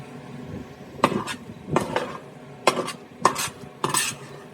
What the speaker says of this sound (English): I'm going to go ahead and scoop it in a bowl here.